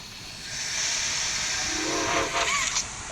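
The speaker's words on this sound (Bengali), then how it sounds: "ওকে ভাই আমাদের ট্রেন চালু হয়ে গিয়েছে" A train in Poppy Playtime Chapter 2 starts up with a sustained rush of steam hiss, topped near the end by a short, shrill steam whistle, with no voices.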